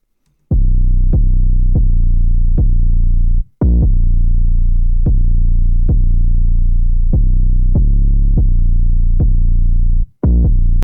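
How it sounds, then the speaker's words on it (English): Long-tailed 808 bass notes hit in a steady pattern, each a deep booming tone that sustains and slowly decays, with two brief gaps of silence; loud and alone with no other instruments or talk. "All it is just a long-tailed 808"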